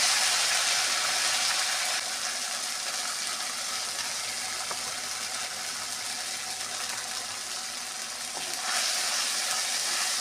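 Black cumin, turmeric and spices sauté in hot oil with a steady, dense sizzle that runs continuously with no talking, easing slightly in the middle and then swelling louder again near the end.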